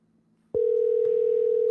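A telephone dial tone sounds as a call is placed: after a short near-silence a click starts a loud, steady, unbroken hum that carries on to the end.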